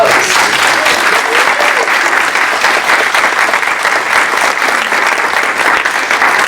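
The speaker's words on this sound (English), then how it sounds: "Let's give them a round of applause." Loud, sustained applause from a large audience at an employer recognition reception, steady and dense throughout with no break.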